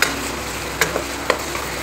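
Minced mutton fries with green chillies, a dense, even sizzle throughout, broken by two or three brief scraping knocks of a stirring utensil against the pan, close and loud.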